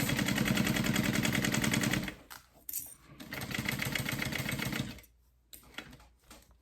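A sewing machine stitches a fold-over fabric clutch, with two loud bursts of fast rattling needle stitching close by, separated by a short pause, then brief quieter handling noise at the end.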